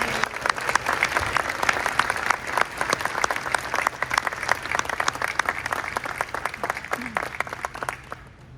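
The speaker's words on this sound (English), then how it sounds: "Let's give them a round of applause" Sustained audience applause at a Hyundai event welcoming two National Youth Ambassadors, dense clapping from a crowd filling the room at steady loudness before tapering off near the end.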